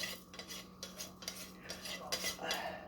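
Toasted Mexican rice gets stirred in a pan over medium-low heat, with a metal spoon scraping and clinking against the pan in short, uneven strokes. It is quiet and close, with no talking.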